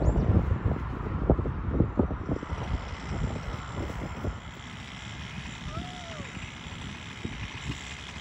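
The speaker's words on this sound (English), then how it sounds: "this engine's still running. Did not stall. It's kicking ass." A Brovan Reedcase 45cc engine runs in a Baja Max-T RC truck, a buzzing two-stroke drone that revs in short bursts at first, then settles into a steadier hum with wind noise over the microphone.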